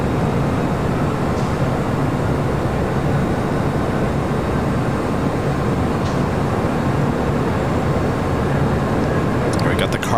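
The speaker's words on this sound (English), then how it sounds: "A United 757-300 now rolling down to 25 right" A United Boeing 757-300 airliner rolls down the runway for departure, a steady broad roar of engine and rumble holding at a constant level, with radio talk and voices over it.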